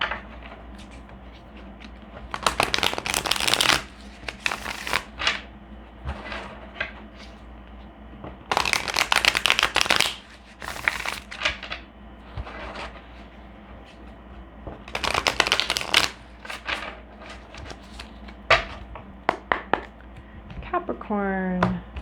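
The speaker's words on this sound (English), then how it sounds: "I'm going to shuffle a little bit here." Tarot cards are shuffled in several rustling, riffling bursts, close up, with quieter handling noises between them.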